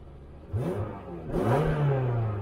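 A Ferrari V8 on its stock exhaust revs up from idle in two rising pulls, the second longer and held high, loud and close with no talking.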